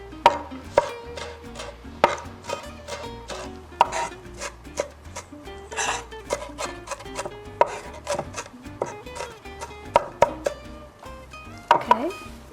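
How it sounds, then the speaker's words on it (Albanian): A knife chops onion finely on a board in quick, uneven bursts of close, crisp taps, with short pauses between runs. "vetëm më duhet që t'i kaloj pak me thik që të priten ato që kanë ngelur pak më të mëdhaja"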